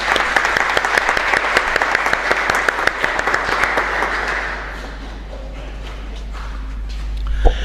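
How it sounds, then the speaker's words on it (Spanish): A church congregation at a Catholic mass applauds with dense, sustained clapping for several seconds that then fades to a softer scattering and quiet room tone. "un fuerte aplauso"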